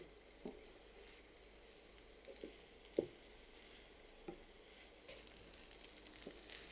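Garlic cloves and onion flower buds frying in a little oil, a faint steady sizzle with scattered soft clicks and stirring taps, quiet and close with no talk.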